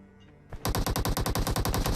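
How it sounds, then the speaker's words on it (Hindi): Automatic gunfire in the mobile shooter BGMI: after a brief quiet moment, a loud, close, rapid string of about fifteen evenly spaced shots hammers out continuously to the end, with no talking. "जैसे इस बंदे ने फायर किया"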